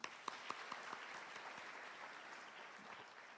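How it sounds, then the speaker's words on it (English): Audience applauding at a contract-signing ceremony, a steady wash of distant clapping from a large crowd with a few sharper nearby claps at the start, fairly faint and continuous. "Shall we applaud again?"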